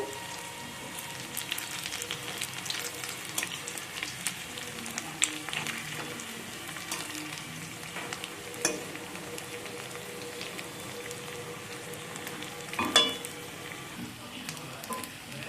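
Flattened rice and potato snacks frying slowly in oil over a low to medium flame, giving a faint, steady, rain-like sizzle that runs the whole time, broken by a few soft taps and one brief louder clatter.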